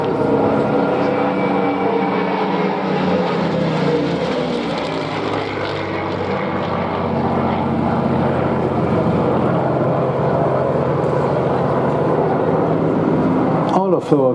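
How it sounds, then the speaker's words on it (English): A Bf 109 fighter's Daimler-Benz engine drones loudly and continuously at an air show, a rough propeller roar holding steady throughout with a brief sharp clatter near the end. "it's hard to understand how, with such a noise, the engine doesn't blow itself apart on its own."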